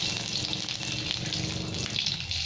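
Cumin seeds and split green chillies sizzle and crackle in hot oil in a pan over a low gas flame, a steady, hissing fry that carries on without pause.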